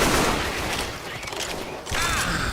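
Gunfire in a shooting video game rattles in dense bursts that cut off briefly and then resume, loud and close and mixed with other game sounds.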